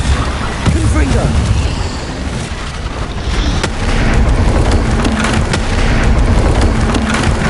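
Confringo blast spell in Hogwarts Legacy, a loud booming explosion with crackling debris and a rumbling tail that fills the whole stretch, while a voice speaks over it.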